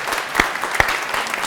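Brief burst of audience applause in a music interpretation class, dense clapping with a couple of sharper individual claps standing out close by.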